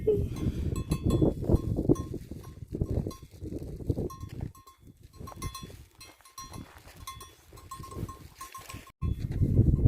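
Sheep bleat repeatedly in an open Norwegian mountain pasture near Preikestolen, several animals calling one after another at varying distances, with clinking bells and outdoor ambience around them.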